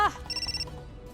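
A telephone ringtone plays a short burst of bright, repeated electronic trills that stops abruptly, leaving faint background hum.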